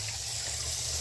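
Water hisses steadily as it sprays from a hole in the hot water outlet pipe of a water heater, a faint continuous spray with no voices.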